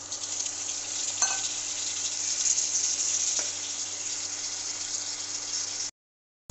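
Mutton hitting a hot pan and sizzling steadily, a bright continuous hiss with faint clicks, before cutting out abruptly near the end.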